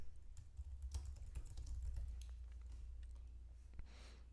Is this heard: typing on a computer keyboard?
yes